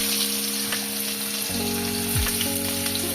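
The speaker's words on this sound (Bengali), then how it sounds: "এরপর গরম তেলের মধ্যে আমি পেঁয়াজটা ছেড়ে দিচ্ছি।" Onions dropped into hot oil in a wok set up a loud, dense, continuous sizzle right up close, with a steady tonal hum running underneath.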